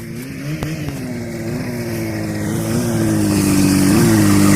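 A 1985 Yamaha Phazer snowmobile engine runs steadily close by, its drone rising gradually in pitch and loudness as it revs up, with a small blip near the end.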